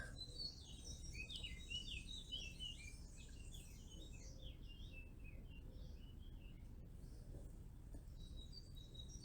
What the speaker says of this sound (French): tu entends toujours ces petits oiseaux qui chantonnent à l'extérieur